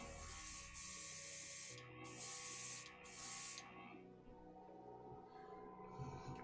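Silver spray paint hisses from an aerosol can onto a Gunpla model kit part in several close, loud bursts with brief gaps between them, then stops, leaving a quiet room with a low hum.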